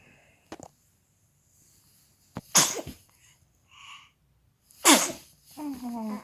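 An infant gives two sharp, close sneezes a couple of seconds apart, with small clicks and soft breathing between them and a brief vocal sound at the end, in a quiet room.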